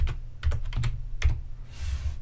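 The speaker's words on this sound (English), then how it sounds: "you can type who at the command prompt and press the Enter key on the keyboard" Keystrokes on a computer keyboard as commands are typed at a command prompt, a quick cluster of taps, a pause, then a few more clicks, close and fairly crisp with no voices.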